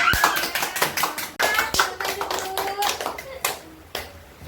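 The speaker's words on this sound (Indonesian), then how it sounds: "beri tepuk tangan" Children in a classroom clap in applause for a correct answer on zakat fitrah in an Islamic studies word-guessing game, a quick run of loose, overlapping handclaps under nearby speech.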